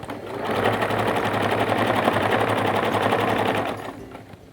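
A sewing machine stitching a patch onto trousers runs in one steady, fast, loud mechanical whirr for about four seconds before winding down, with no talking.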